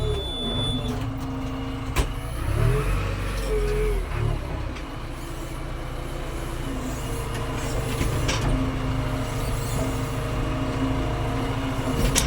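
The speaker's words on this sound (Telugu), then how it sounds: "ట్రాక్టర్ ఒకటే వచ్చింది, బయలుదేరదాం" A tractor engine runs steadily up close on a rural work outing, a loud low diesel rumble with mechanical rattle that holds throughout, with no talk.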